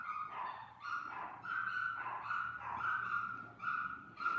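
A small pet dog gives a run of repeated yips and barks, fairly close and steady across the whole stretch, with no talk over it.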